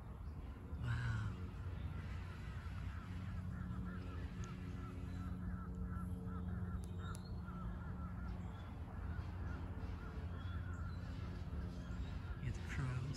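Crows caw in scattered calls over a murmuring background, mixed with honking, goose-like bird calls and low steady noise; a person talks faintly now and then.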